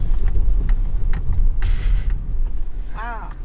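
A 2021 Chevy Colorado ZR2 brakes hard while driving, with low road rumble, creaks and a brief mechanical hiss, plus a short voice near the end.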